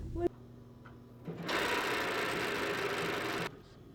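Sewing machine stitching fabric: a short start, then a fast, even mechanical whirr that runs at a steady level for about two seconds before it stops abruptly, heard close up.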